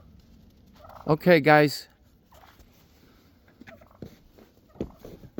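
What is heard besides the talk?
wild turkeys gobbling while foraging before snow storm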